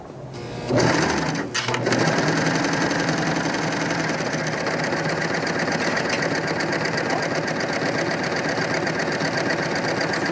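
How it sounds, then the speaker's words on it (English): A Bernette b62 coverstitch machine runs a wide cover stitch, whirring steadily and loudly for about ten seconds after a brief start-up clatter, with no talking. "I'm just going to sew another line of stitching so you can see what the wide cover stitch is going to look like"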